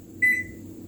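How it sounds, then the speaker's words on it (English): A single electronic kitchen-timer beep rings out clearly for about a quarter second over a low steady room hum, heard as the timer is set for ten minutes while cookies bake. "We're going to set our timer for 10 minutes and check on them"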